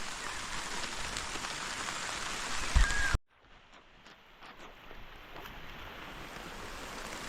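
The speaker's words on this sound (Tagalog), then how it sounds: "ang lakas ng ulan" Heavy rain pours onto a vegetable garden with bitter gourd vines, a dense, loud hiss that cuts off abruptly partway through and then returns as a softer, steady patter.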